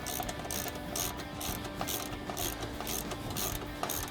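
An 18mm ratchet clicks rapidly and evenly while tightening a trailing arm front pivot bolt on a Polaris XP1000, the pawl ticking in quick bursts close up, with no talk.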